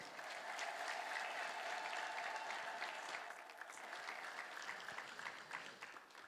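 A congregation at a church celebration claps together in sustained, dense applause that swells early and then eases slightly, sounding like a room full of people at moderate distance.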